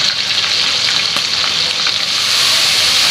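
Noodles with soy sauce fry in a pan with a steady, dense sizzle and occasional stirring clicks, loud and close throughout.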